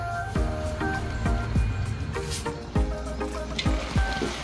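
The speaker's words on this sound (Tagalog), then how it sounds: "Ayan, kumukulo na" A covered pot of shrimp and crab with chili and bean sprouts bubbles on the stove, giving a steady simmer with repeated soft bubbling pops and a faint, even hiss, and no voices.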